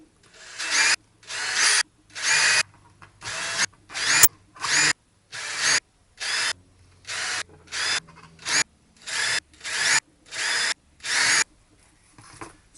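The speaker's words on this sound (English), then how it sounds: "Drill's just a drill. Drill's super simple." A power drill bores through leather for a holster in a dozen evenly spaced bursts, each a roughly half-second whine with short silent gaps between, close and loud.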